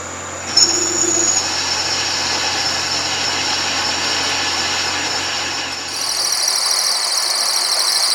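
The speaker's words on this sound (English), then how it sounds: "Here we're turning the stainless steel insert block," A metal lathe turns a stainless steel insert block for an aluminium clamp, giving a loud, steady machine drone with a faint high cutting whine. The tone shifts near the end and a bright, hissing cutting noise takes over, with no speech.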